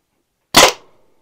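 Byrna TCR less-lethal launcher fires a single shot, one loud sharp pop from close by in near silence, followed by a short fading tail.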